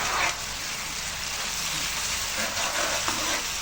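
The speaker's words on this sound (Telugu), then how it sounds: "ఇందులో కూడా వేసుకొని బాగా వేయించుకోవాలి" Chicken with ginger garlic paste fries in a pan, a steady dense sizzle running throughout at moderate loudness with faint stirring scrapes.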